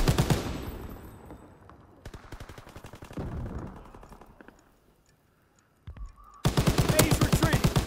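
Call of Duty WWII War-mode defence battle gunfire: rapid machine-gun rattles that fade into sparse distant shots, then a sudden loud, close automatic burst at the end.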